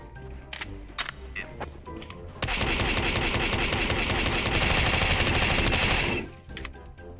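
MP5 submachine gun firing in CS:GO, a few scattered shots at first, then a loud sustained burst of rapid automatic fire lasting several seconds before cutting off, with game ambience around it.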